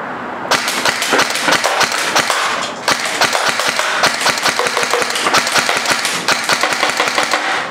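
An airsoft gun test-fires at targets in rapid bursts of sharp clicks and snaps, many shots in quick succession, loud and close with brief pauses between strings.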